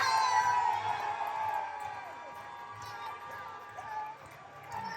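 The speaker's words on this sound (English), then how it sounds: "Listen to this ovation." A wrestling-show crowd roars in a sustained ovation, cheers, whoops and shouts blending into a loud, dense wall of noise that slowly eases over a few seconds.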